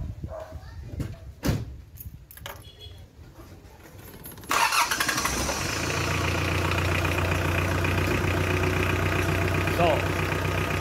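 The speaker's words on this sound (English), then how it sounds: "Okay, so I will now start the engine." A Mitsubishi 4D56 diesel engine cranks and fires up after a few clicks and knocks, then settles into a steady, loud, rattling idle that runs on without a break.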